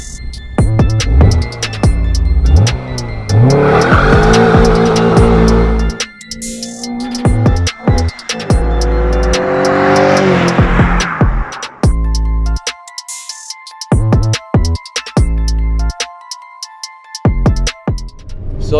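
A tuned Rover GTI 16 engine revs hard through rising harmonic sweeps before bouncing off the rev limiter. Later it settles into choppy, stuttering bursts and then falls silent. The sound is loud and close, and no voice is heard.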